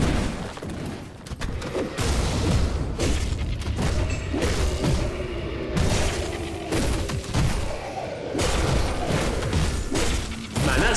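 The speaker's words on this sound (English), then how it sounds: "Who's shooting at me?" Dense, continuous gunfire and booming impacts from enemies shooting in the action role-playing video game Grim Dawn, rapid overlapping thuds and bursts filling the whole stretch with mechanical clatter.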